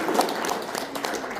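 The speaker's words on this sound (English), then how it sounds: "one more big round of applause for these guys" Audience applause at a community meetup, a short burst of steady clapping from a crowd filling the room at close range.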